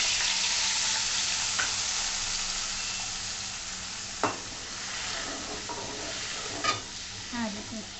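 Asafoetida and masala hit hot oil and sizzle continuously, with stirring scrapes and a few sharp clinks of a spoon against the pan, steady and close with no talk.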